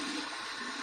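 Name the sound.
water flowing into shaving brush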